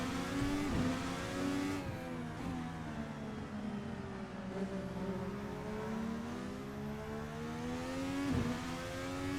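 A VRC Formula NA open-wheel race car engine in Assetto Corsa, on the Termas de Rio Hondo circuit in Argentina, screams loudly and steadily, pitching up through the gears with brief drops at each shift.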